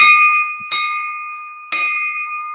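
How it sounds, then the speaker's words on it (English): A bell rung during an online Rotary club meeting gives three clear strikes, each leaving a bright, sustained ringing tone that decays slowly between strokes, alone with no talking. "And Ces, I would also like to ring the bell again in tribute to our grand old club number 3."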